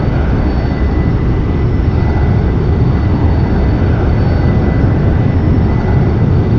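Fighter jet engine in the X-Plane 11 flight simulator game, a steady loud broadband roar that holds constant throughout with no voices.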